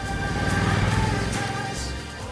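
A 2015 Indian Scout motorcycle engine idles and runs steadily, a loud, close, continuous rumble with no voices over it.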